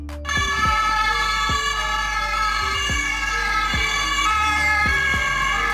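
A German police car's siren wails continuously and loudly close by, with a repeating cycle of sweeping tones over a steady low vehicle rumble.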